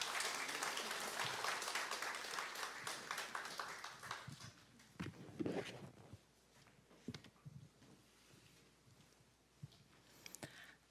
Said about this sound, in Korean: 우리 나오실 때 우리 뜨겁게 박수로 환영합시다.